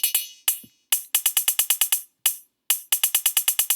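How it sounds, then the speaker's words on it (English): Crisp, short electronic cymbal hits from a TR-808 drum machine sound in quick rhythmic bursts separated by brief pauses, each with a fast hissing decay. "Now, I can probably make the cymbals."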